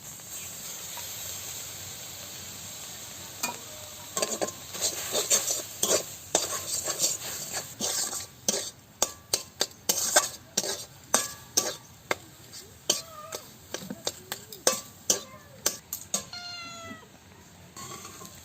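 Ground garlic paste goes into mixed village greens frying in a pan, and the stirring and scraping make sharp repeated clicks and knocks over a quiet background sizzle.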